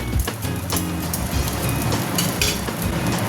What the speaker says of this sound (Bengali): চালটাকে ভালো করে ভেজে নিতে হবে